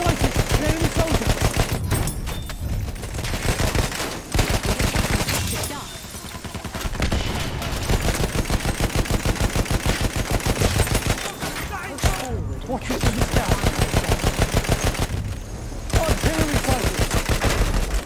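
Long bursts of rapid automatic gunfire aimed at a bomber in a combat video game, loud and rhythmic, broken by short pauses between volleys as a voice talks intermittently.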